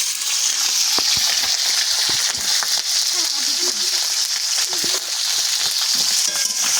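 Crabs fry in hot oil in a wok with a loud, unbroken hiss and spatter, with dense crackling pops and faint scrapes, heard near and with no speech over it.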